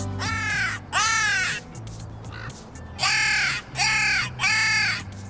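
A hunter's decoy whistle mimics crow calls in a series of loud, harsh caws, two at first and then three more after a pause, close by and with no talking over them.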